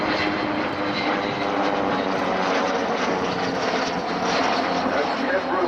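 Avro Vulcan bomber flying slowly alongside two small aircraft, a steady loud engine drone holding throughout with no pauses.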